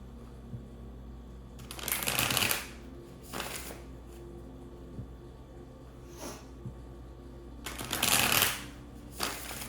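Tarot cards are shuffled in a few quick riffling bursts separated by quiet pauses, close and fairly soft against a faint background hum.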